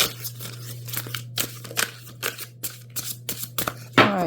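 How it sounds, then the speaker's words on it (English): Tarot cards are shuffled in quick, soft papery bursts at a steady pace, with a low constant hum underneath and a brighter flutter of cards right at the end. "we'll do one or two more shuffles"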